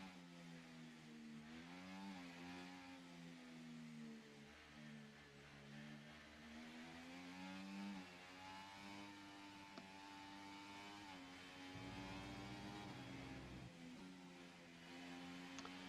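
A Formula racing car engine in an esports racing game sings at a high pitch, its tone rising and falling as the throttle is modulated through corners, steady and continuous for about sixteen seconds at a low level.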